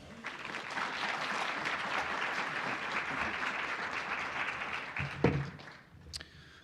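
An audience in a conference hall applauding to welcome a speaker, sustained clapping from many hands that fades after about five seconds, with a few brief voices and thumps at the end.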